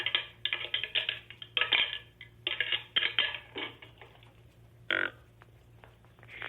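A pair of real buck antlers rattled as a deer-hunting call produces several close, sharp bouts of clacking and grinding bone, bunched early and then thinning out into a few last louder clatters.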